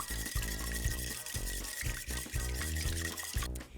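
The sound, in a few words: whisking an egg in a large mixing bowl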